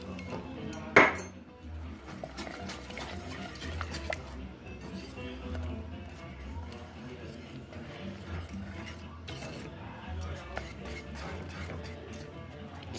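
Roux and hot broth mixed in a pan for cream of chicken, bacon and wild rice soup, with soft clinks and scraping of a utensil against the pan, one sharper clank near the start, quiet and close.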